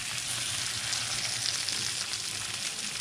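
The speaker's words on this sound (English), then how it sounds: "frying it in high heat and butter like that will make the skin crispy" Trout fillet frying in hot browned butter over medium-high heat, a steady dense sizzle that holds evenly throughout, close and fairly loud with no talking.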